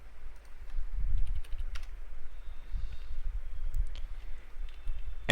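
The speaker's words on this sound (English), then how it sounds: "and we type the keyword here." Quick bursts of keystrokes on a computer keyboard, close and fairly soft, in short irregular runs with pauses between.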